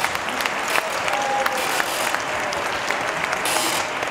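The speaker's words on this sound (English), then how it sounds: "give that a round of applause" An audience at a school band jazz marathon winter concert claps in sustained, dense applause, steady and fairly loud throughout, with no talking over it.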